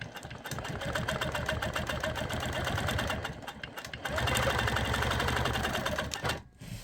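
A sewing machine stitches close, tight securing stitches while echo quilting lines, running in a steady, loud, fast mechanical patter that pauses briefly mid-way and resumes before trailing off at the end.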